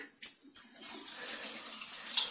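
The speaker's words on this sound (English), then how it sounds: "We rinse your mouth out." Water swishes and gushes as a mouth is rinsed out, a brief splashing swell that rises and holds without any talking.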